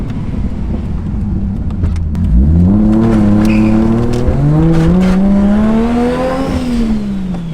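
An RB25-swapped Nissan R32 accelerates hard through the gears, its loud engine climbing in pitch, dropping at each shift and climbing again, heard up close with no talking.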